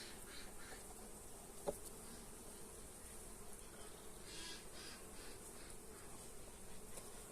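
A steady, low hum of many honeybees droning continuously at an eight-frame hive, fairly quiet and even throughout, with one brief click partway through.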